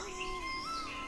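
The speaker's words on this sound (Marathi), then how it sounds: "पक्ष्यांचा आवाज फक्त पक्ष्यांचा आवाज येतो एवढी शांतता आणि प्रसन्न वातावरण आहे इथलं" Birds call near a forest temple during the monsoon, with soft whistled notes and a rising call sounding faint and distant in a hushed, steady outdoor ambience.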